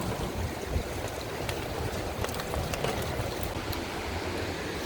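Wind gusting outdoors past a Jeep on a cruise through Ferguson, a broad, rushing roar that swells and eases unevenly, steady and fairly loud throughout with no voices.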